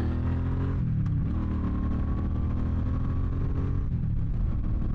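Suzuki Boulevard C50 motorcycle engine accelerating on a road after inspection as a used bike, a steady close engine drone with rising tone and a gear-change dip near the middle, continuous and alone without talk.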